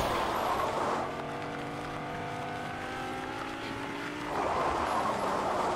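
A Ferrari in the video game Fortnite doing burnouts, its engine holding a steady, sustained whine loud in the mix, with rougher noisy stretches before and after the held tone.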